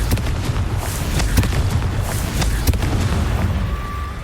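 Repeated Confringo fire spell blasts in the Hogwarts Legacy video game, a continuous roar of booming explosions with sharp cracks scattered throughout, loud and close.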